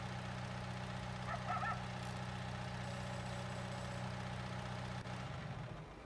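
A tractor engine in Farming Simulator 19 runs at a steady low idle, a continuous humming drone that stays even, then eases off slightly at the end, with no talk over it.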